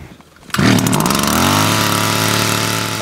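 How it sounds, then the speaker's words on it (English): A motorized ice auger starts up and drills into thick reservoir ice while ice fishing, a loud, steady engine drone that begins abruptly after a quiet moment and holds close and strong to the end. "I started drilling holes"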